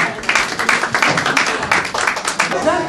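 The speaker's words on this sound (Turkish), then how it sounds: "şimdi alkışlıyoruz öğretmenlerimizi" Dense, steady applause for the teachers at a school report-card day in Istanbul: many hands clapping at once, fairly close and loud, continuing for a few seconds with voices mixed in.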